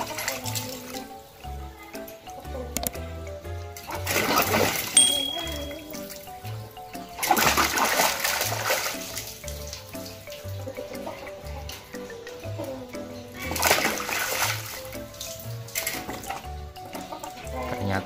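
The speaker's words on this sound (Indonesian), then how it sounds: "Ternyata si Joy senang berenang guys." A baby pig-tailed macaque splashes while swimming and playing in water: irregular sloshing and splashing bursts come and go over a steady watery background, close by, with occasional voices underneath.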